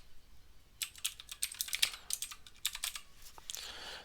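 Typing on a computer keyboard, a quiet close burst of irregular key clicks and taps lasting a few seconds, with no voice over it.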